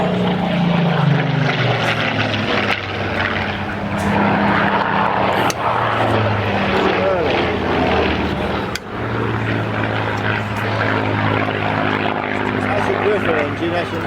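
A steady, droning propeller aircraft engine fills the recording, with a low throbbing hum and occasional shifts in pitch, heard close and loud throughout.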